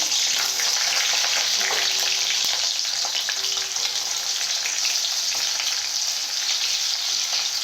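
Diced onions fry in hot oil for a capsicum chilli chicken, giving a loud, continuous, hissing sizzle with faint stirring that holds steady throughout.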